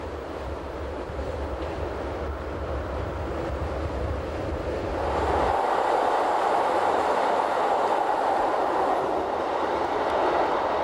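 The Glacier Express rolls along Rhaetian Railway track near the Albula line junction, a steady rumbling ride with a low hum that shifts midway into a brighter, louder rushing wheel roar, continuous and close, with no talk.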